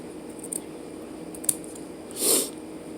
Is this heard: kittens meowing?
no